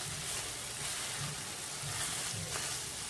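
Onions cooking in a pan for a Mexican casserole, giving a continuous, even close-up sizzle with soft crackling and no talk.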